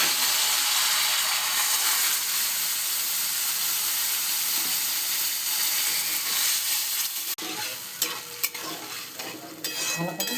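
Potatoes and chana dal being stirred in a cooking pan, a steady loud sizzle and hiss of frying, then scraping and clinking of the spoon against the pan toward the end.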